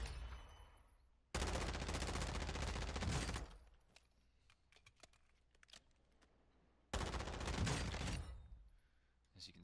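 Two long bursts of automatic hip fire in the video game DMZ, loud and rapid, separated by a quieter stretch with faint clicks and a few scattered shots.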